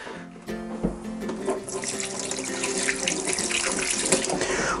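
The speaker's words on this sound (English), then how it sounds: "Wash my hands." Tap water pours steadily into a sink for a handwash in a home kitchen while a pheasant and partridge stew is being made, a continuous close splashing rush with no talk.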